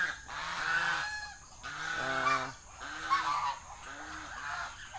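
Geese and ducks kept as farm birds honk repeatedly in a lively, overlapping chorus, calls coming in bursts throughout at close range with no talking.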